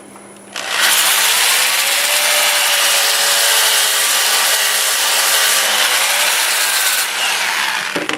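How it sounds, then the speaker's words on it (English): Sandpaper held against sweet gum wood spinning on a lathe at about 400 RPM, a steady loud close rushing hiss that runs unbroken for several seconds. "This I can sand under power as long as I don't come up past here"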